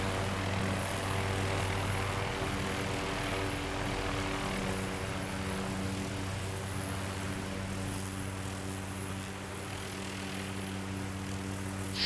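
A helicopter in the Prepar3D V5 flight simulator game gives off a steady, droning engine and rotor hum with sustained low tones, moderately quiet and unchanging throughout.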